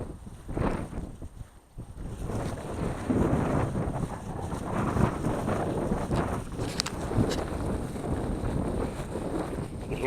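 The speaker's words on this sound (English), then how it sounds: "You can hear it's really windy today." Strong wind gusts buffet the microphone outdoors in a quiet, calm-traffic area on the outskirts of Globeville, a steady loud roar and rumble filling the whole stretch without speech.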